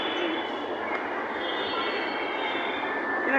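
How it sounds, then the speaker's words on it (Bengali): A metro rail train in Dhaka heading toward Shahbag rolls with a continuous steady roar, and a thin wheel squeal rises near the end, heard from nearby. "আমরা চড়বো মেট্রো রেলে।"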